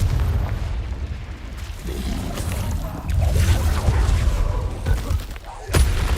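Confringo blasting spells exploding in the game Hogwarts Legacy, heavy low booms and rumbling bursts in quick succession amid a continuous combat din, with a sharp crack near the end.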